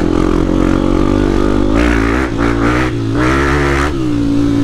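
Dirt motorcycles revving hard on a heavy mud trail, loud continuous engine roar with repeated throttle blips and rising revs as bikes pass close by.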